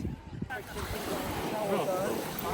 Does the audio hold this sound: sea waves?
yes